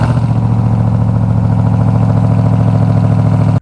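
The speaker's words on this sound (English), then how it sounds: "If you couldn't have guessed by that exhaust clip that you just heard, yep, it is a new Hellcat powered vehicle on the channel." Hellcat-powered 2021 Ram TRX pickup exhaust idling close by, a loud, steady, deep rumbling burble with a throbbing pulse that runs unbroken before cutting off abruptly.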